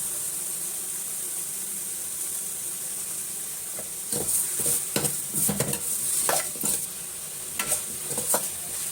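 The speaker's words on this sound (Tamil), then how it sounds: "முருங்கைக்காய் நல்லா வதங்கிருச்சுங்க" Drumstick vegetable pieces sauté in a pan with chili powder for dal sambar, a steady close sizzle that gives way after a few seconds to repeated scraping stirs of a spoon against the pan.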